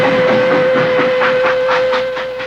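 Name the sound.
train passing with a steam whistle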